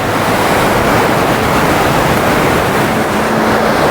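A river churns close by, giving a loud, constant, dense rush of water with no break and no voices.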